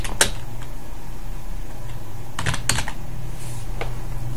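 A few sharp keystrokes on a computer keyboard as names are typed in, landing as separate clicks and a quick cluster near the middle, close up over a faint steady hum.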